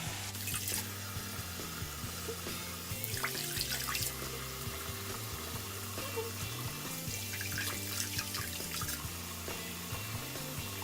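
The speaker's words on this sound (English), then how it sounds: "I let the tap water get hot" Hot tap water runs steadily into a bathroom sink, a quiet continuous splashing stream with a few brighter spatters, no voices.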